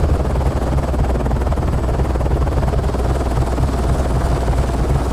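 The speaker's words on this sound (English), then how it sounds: "Helicopter." Helicopter rotors in the video game Nuclear Nightmare make a steady loud rumbling whir with fast chopping pulses, sustained and close throughout, with no speech.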